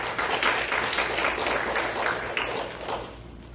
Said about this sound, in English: Let's give a round of applause for Nina.